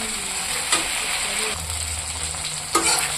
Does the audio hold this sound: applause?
no